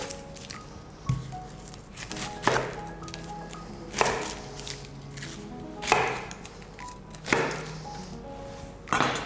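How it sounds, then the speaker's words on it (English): A knife chops onions into quarters for a traditional gravy, landing several distinct, fairly close cuts at irregular intervals of one to two seconds over faint background room noise. "I'm going to cut these into quarters."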